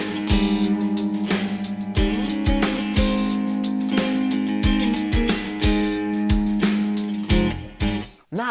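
Double-tracked rhythmic guitar comping through a Boss IR-2 amp and cabinet simulator, two takes panned hard left and right for a natural chorus, strummed chords with steady percussive accents over a backing mix.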